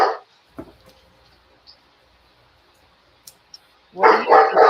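A dog barks nearby: one sharp bark, a second shorter one moments later, then a quiet stretch before a quick cluster of loud barks at the end.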